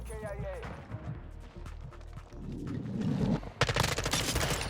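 M4 rifle from a zero-recoil class setup firing in Call of Duty, rapid automatic bursts building up under excited talk, with a dense loud stretch of fire near the end.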